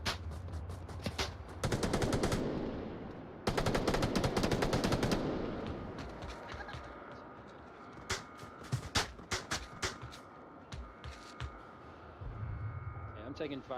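Rapid automatic gunfire from a VR team shooter match, with dense bursts of machine-gun fire and scattered single shots at close to mid range, some fading into the distance.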